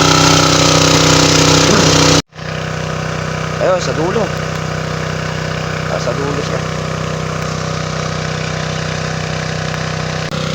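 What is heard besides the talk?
engine of motorized power sprayer running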